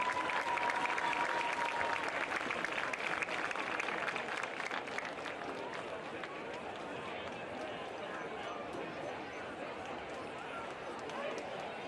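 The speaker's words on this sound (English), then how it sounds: "Let's have one more round of applause for the Cheer and Grow the Golf Champions." Crowd applause for cheer and golf champions at a high school varsity football event, steady sustained clapping from a large audience with some crowd noise mixed in.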